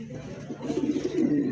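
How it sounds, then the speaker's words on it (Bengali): A pair of caged pigeons coos in soft, overlapping low rolling calls, close by and continuous with no talking. "খুবই চমৎকার এক জোড়া কবুতর"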